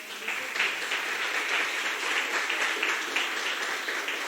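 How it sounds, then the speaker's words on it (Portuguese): Moderate, even applause from a lecture audience at the close of a class on fascism and Brazilian reality, a steady patter of many hands somewhat distant and without talk. "Acho que uma salva de palmas para..."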